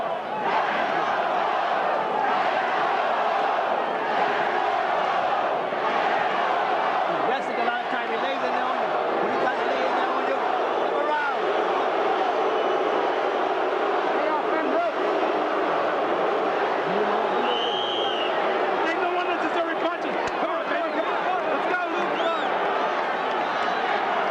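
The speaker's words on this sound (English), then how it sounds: "The other half of the crowd, or 2/3 of the crowd, started to boo." A large boxing arena crowd at a heavyweight title fight, a loud continuous roar of chanting and booing that fills the whole stretch, with a commentator talking over it.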